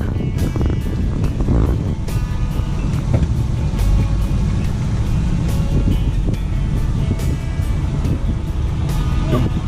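A truck engine rumbles steadily at the check-in gate of Hanna Park in Jacksonville, a continuous low drone of driving with road noise throughout.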